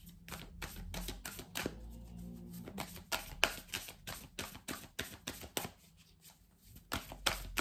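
Close, crisp riffle of an oracle deck, the Starseed Oracle, being shuffled for a reading, rapid repeated slaps and flutters in steady bursts, quiet and alone without voices.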